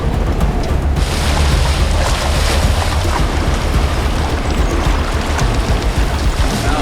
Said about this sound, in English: Here we go for our first creek crossing.